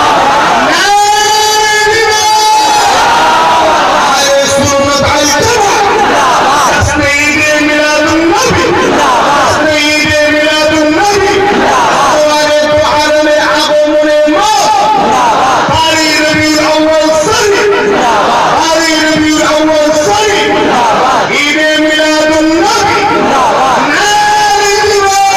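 A large crowd at a religious waz gathering chants takbir in loud, repeated unison calls that rise and fall in waves, with crowd noise and a voice between the chants.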